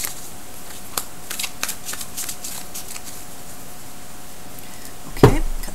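Tarot cards are shuffled with quick crisp riffles and flicks in the first seconds, then a pause and a sharp thump of the deck near the end.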